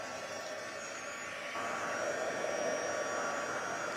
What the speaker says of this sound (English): I'll grab that heat gun.